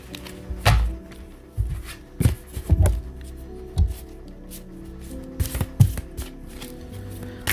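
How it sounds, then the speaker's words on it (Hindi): Tarot cards shuffled by hand, giving a series of soft riffling flutters and dull thunks in irregular bursts, close and fairly quiet, with no talking. "चलो मैन्युअली करते हैं शफल"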